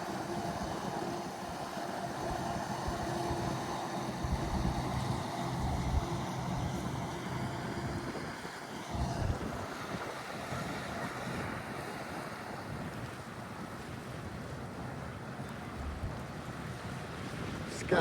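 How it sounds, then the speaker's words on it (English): The Scallywags pirate ship boat moves across open water off Erie, Pennsylvania, its engine a low steady rumble under heavy wind buffeting the microphone and the wash of waves, continuous throughout. "Unless the pirate is jumping in his boat."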